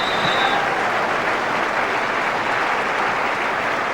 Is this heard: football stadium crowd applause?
yes